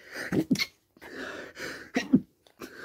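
A man sneezes a few times in quick bursts, each a sharp, loud, breathy explosion separated by short pauses, heard close and alone.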